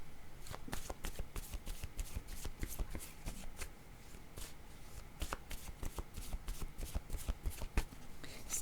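Tarot cards being shuffled by hand: a continuous run of quick, crisp riffling snaps and soft slaps, close and fairly quiet, with a short lull midway.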